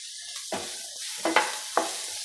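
A spoon stirs onions with added salt in a pan over a steady background sizzle, giving three distinct scraping strokes close up, with no voices.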